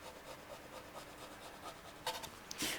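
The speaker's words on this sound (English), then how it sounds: "There's a bit of a lip here on the filler. So I'm just going to scrape this away." A scraper rasps away a lip of filler on a black Stratocaster-style guitar body: soft, faint rubbing strokes close by, with a couple of slightly louder scrapes near the end.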